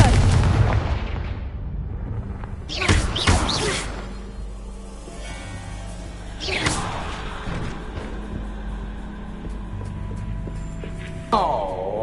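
Confringo fire spell blasts in the video game Hogwarts Legacy: several sharp booming impacts with whooshes, spaced apart over a rumbling background, with game voices nearby.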